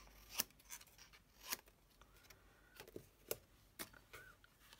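Scissors snipping through a layered paper card with an umbrella design, five or six sharp, distinct cuts at irregular intervals, close and fairly quiet.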